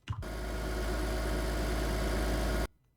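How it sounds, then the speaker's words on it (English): A car engine sound effect for a game trailer runs at a steady, even rumble for a few seconds, close and loud, then cuts off abruptly. "the car is already approaching, I mean the engine"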